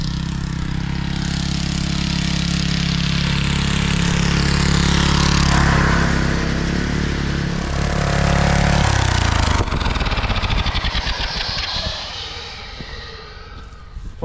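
Turbocharged lawn mower engine runs loud and close, holding a steady drone with rising revs, then dropping into a choppier, pulsing idle near the end.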